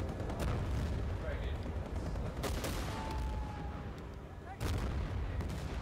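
Grenade launcher blasts in a first-person shooter game, a few sharp booming thumps rising out of a constant noisy rumble of game combat, with voices talking underneath.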